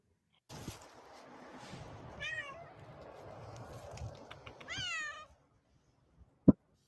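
A house cat meows twice, close and clear, each call a drawn-out rising and falling cry over a soft noisy background, followed by a quiet pause and a single sharp knock.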